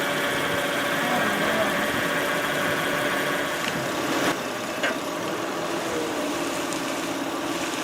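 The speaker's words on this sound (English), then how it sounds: "Now turn the steering wheel again." A 2005 Toyota Highlander with 174K miles idles steadily with its power steering being worked as the wheel is turned, a constant mid-pitched engine drone with a couple of faint clicks and creaks, while people talk briefly.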